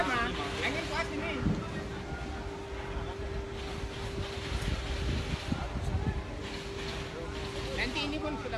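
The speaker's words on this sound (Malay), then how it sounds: "Angin banyak kuat mah, angin kuat ini." Strong wind roars steadily outdoors near a burning factory, a constant rushing buffeting the microphone with a low steady hum, while people talk under the noise.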